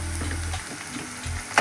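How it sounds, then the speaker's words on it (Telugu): Onions, green chilies, ginger-garlic-dried-coconut paste and curry leaves fry in a pan for Andhra chicken curry, a steady close sizzle with low bubbling that dips midway and swells again, ending in a brief sharp clink. "కొంచెం కరివేపాకు కూడా వేసుకుని ఫ్రై చేసుకోవాలి."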